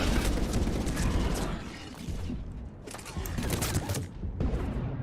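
Dense, sustained gunfire in Mass Effect 3 multiplayer, loud and continuous with overlapping shots and brief dips, weapons firing together in a heavy barrage.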